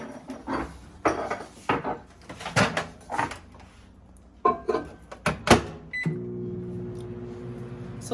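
A microwave oven is worked for melting butter: several door clunks, button beeps and clattering handling sounds, then a steady low hum as the oven starts running.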